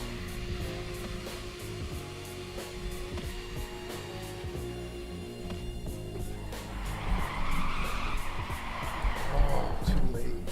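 Car drifting with the handbrake in a racing game, tires skidding and screeching over a steady engine drone, louder toward the end, with a voice talking over it.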